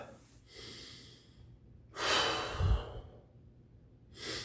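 Slow, deep breaths drawn in and let out, each a soft airy rush with a fuller inhale and exhale near the middle, close and quiet with no talking.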